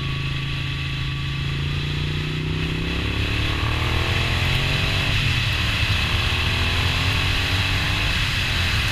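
A Moto Guzzi V9 Roamer motorcycle fitted with an Agostini exhaust rides hard, its engine note rising steadily through acceleration and shifting pitch, loud and close with wind rumble throughout.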